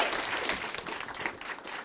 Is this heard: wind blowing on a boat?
no